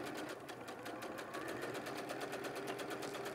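Sewing machine stitching vinyl with the stitch length increased, a fast even mechanical chatter of repeated needle strokes running throughout at moderate volume, with no voices.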